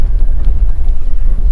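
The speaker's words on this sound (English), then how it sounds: "We have a pretty strong wind gust behind us." Strong wind gusts buffet the microphone on the water near Galveston, Texas, a loud, rumbling, low roar that pulses unevenly throughout with no talking.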